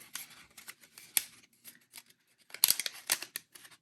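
Scissors cutting through a sticker on PS5 Slim 30th Anniversary packaging: a few close, quiet crisp snips and rustling clips in quick, uneven succession, alone without talk.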